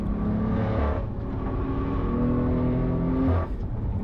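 A BMW M4's engine drones steadily at high revs while lapping the Nürburgring in a racing simulator, the pitch dipping briefly with a gear change or lift and then climbing again, loud and continuous with no talk.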